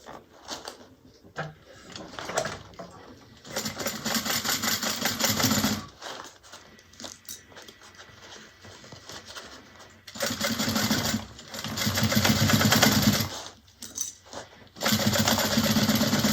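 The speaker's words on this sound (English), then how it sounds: "then we're going to sew across with a 1/2 inch seam allowance" A sewing machine stitches across a bag seam in several long, steady whirring runs broken by short pauses, loud and close, with no talking.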